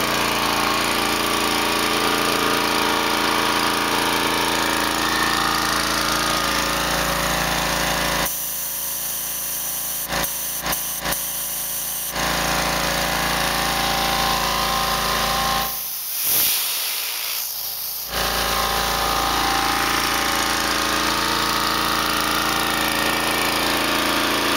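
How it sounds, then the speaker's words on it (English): A small gasoline engine on a dive hookah compressor runs loudly and steadily with a rough, rattling drone, broken by two brief drops in sound before it carries on. "You should just be able to flip the on switch and grab the rope and give it a tug."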